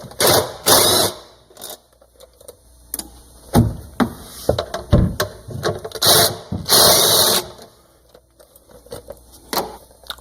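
A ratchet backs out screws from the center housing of a CVT, in quick bursts of rapid metallic clicking separated by short pauses and the clatter of handling parts, close and fairly loud.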